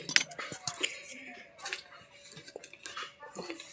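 A pot of cooked meat lifted off a kitchen stove, with a few sharp metallic clinks and knocks near the start and softer scrapes and taps afterward, close and moderately quiet.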